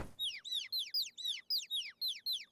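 Ducks in the video game AI: The Somnium Files quack in a fast, even series of about ten nasal calls, loud and close, running steadily without any speech.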